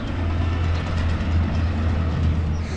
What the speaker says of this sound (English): And we are at the train station